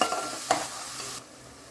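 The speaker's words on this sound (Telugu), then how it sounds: "గ్రైండ్ చేసుకున్న 2 ఉల్లిపాయల పేస్ట్, వేసుకొని మంచిగా గోల్డెన్గా వచ్చేదాకా వేయించుకోవాలి" Ground paste of two onions with chopped green chillies fries in a pan, giving a close hissing sizzle with a quick stir scrape before the sizzle suddenly drops to a faint hush.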